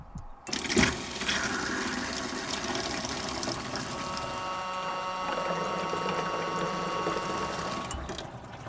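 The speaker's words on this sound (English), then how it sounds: "So now, if I turn the pump on, I'm going to have to push that out of the way. Hopefully we should get water in the sink." An electric water pump in a campervan runs steadily, feeding a newly replaced sink tap as water fills the sink, with a continuous close hum and rushing flow starting after a sharp knock and holding level to the end.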